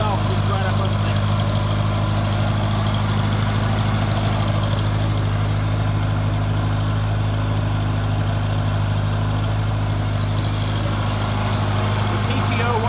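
A 1972 IH Farmall Cub tractor engine idles steadily in snowy weather with a low, constant throbbing hum that stays even throughout, close by.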